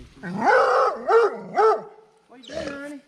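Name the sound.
dog barking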